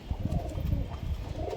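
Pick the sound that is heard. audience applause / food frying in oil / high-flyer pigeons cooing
high-flyer pigeons cooing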